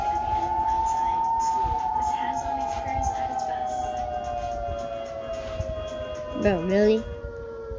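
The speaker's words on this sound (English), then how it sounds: "This is that one siren that just wants to go off." A siren wails in a long, steady tone that slowly falls, then warbles sharply near the end, with a brief spoken remark over it.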